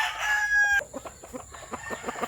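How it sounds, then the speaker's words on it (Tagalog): A rooster crows loudly up close, a sustained harmonic call, then breaks into a run of quick, choppy clucks. "Yung tandang kong tabinging buntot guys"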